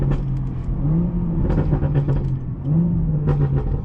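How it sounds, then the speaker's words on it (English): A car engine revs sharply during a gear downshift on a road corner, with two short rising blips over a steady engine drone, close and moderately loud. "Oh, that downshift is perfect."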